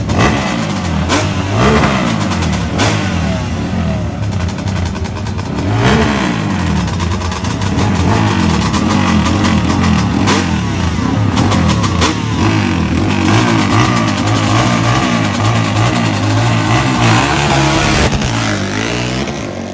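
A Yamaha Banshee-style two-stroke engine revs hard and repeatedly on a street track, loud and close, with rising and falling throttle bursts over a steady buzzing drone throughout.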